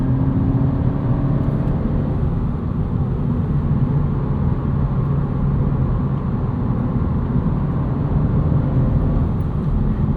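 A 2025 Honda Civic Si on the move, heard from inside the cabin as a steady loud drone of engine and road noise with tire roar, even and unbroken throughout, with no talking.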